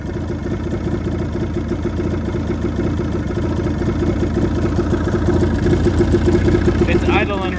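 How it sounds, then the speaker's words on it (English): A Mountain Cat engine that finally runs, idling low with the idle set too far down, making a steady, loud, close-up rumble that continues throughout. "It's idling right at 0. So I definitely got to fix that, but it's running."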